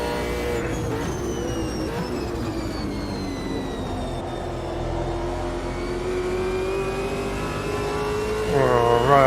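A race car engine in the Automobilista 2 sim races around Bathurst, holding a steady loud drone with shifting pitch and rising to a harder rev near the end.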